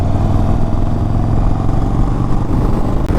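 An Indian Chief Dark Horse motorcycle with the Thunderstroke 116 engine cruises at highway speed, a loud, steady deep engine rumble mixed with wind roar, heard close and continuous.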